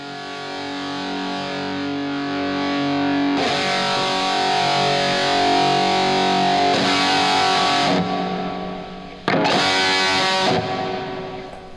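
Electric guitar with reverb run through an LA-2A compressor, sustained distorted chords ringing with long washy tails, broken by two loud bursts of brighter strummed noise near the middle and end.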